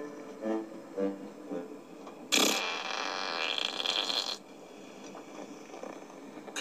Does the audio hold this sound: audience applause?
no